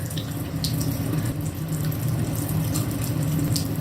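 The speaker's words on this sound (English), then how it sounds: "And then you will rinse off completely with the warm water." Warm tap water runs steadily into a sink for rinsing the face during a night-time skincare routine, a close, continuous splashing flow heard alone without any talking.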